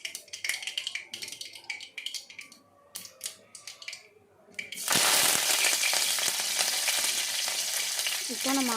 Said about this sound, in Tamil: கொஞ்சமாக ஆயில் போட்டுட்டு அப்புறம் நம்ம தாளிக்கிறதுக்கு நார்மலாக போடுற மாதிரி கடுகு கருவேப்பிலை எல்லாம் போட்டுக்கலாம்